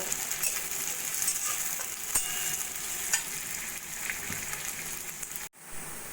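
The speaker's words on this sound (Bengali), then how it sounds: "আলুগুলো পেঁয়াজের সঙ্গে একটু ভাজা ভাজা করে নেব" Sliced potatoes and onions frying in a pan give a steady, close sizzle with light crackles and a brief clatter near the end.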